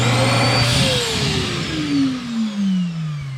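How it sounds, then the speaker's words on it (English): A built-in vacuum cleaner in an R-Pod 180 camper whirs close by, its motor pitch dropping steadily as it winds down over a few seconds. "One of the other cool things that came with this camper was a vacuum."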